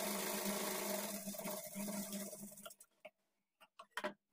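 A sewing machine stitches blouse darts with a half-inch margin, running steadily for under three seconds, then stops, followed by a few light clicks and handling taps, quiet and close.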